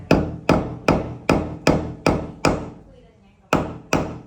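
Sharp hammer blows during a do-it-yourself water heater installation, eight loud close strikes in a steady rhythm with a brief pause before the last two.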